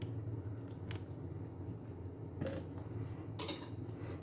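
A spoon stirring rock salt, three pieces of kudampuli and coconut oil together in a bowl for a homestyle shark curry, giving soft intermittent scrapes and clinks, with a sharper clink near the end.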